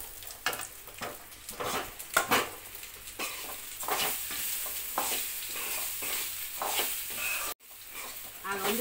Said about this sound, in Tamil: பொடியாக தேங்காயை நறுக்கி அது நெய் ஊற்றி வதக்கணும் பாருங்கள்